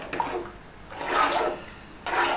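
Water pours in steady bursts into a cooking pot for egg curry, a splashing rush that swells, pauses briefly and resumes, close by with no talking.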